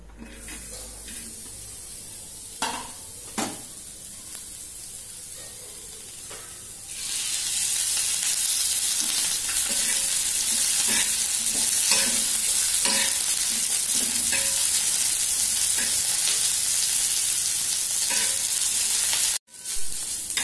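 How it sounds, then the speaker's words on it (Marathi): Chopped onion fries in a hot pan for an egg curry, a loud, steady sizzle with scattered clinks and scrapes of a spoon stirring, beginning quieter and swelling into continuous frying. "आधी आपण कांदा भाजून घेणार आहोत।"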